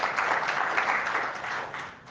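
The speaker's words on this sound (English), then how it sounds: "A round of applause." Audience applause at a technical talk on verifying application-specific fault tolerance: dense, steady clapping from a room of listeners that holds its level for about two seconds and then eases off slightly.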